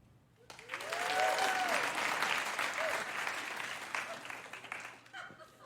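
An evening comedy audience bursts into sustained applause after a brief pause, clapping loudly and evenly before tapering off near the end.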